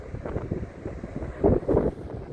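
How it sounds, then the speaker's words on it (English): Wind buffeting a microphone on the slopes of Mount Wellington (Maungarei), a volcano in New Zealand, a steady low rumble that swells in two stronger gusts midway. "Can you hear the wind? Can you feel the wind?"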